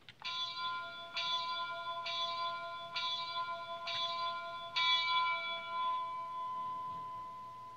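A bell rings six times at an even pace, each strike ringing out clearly and the last tone lingering as it fades, with no one speaking.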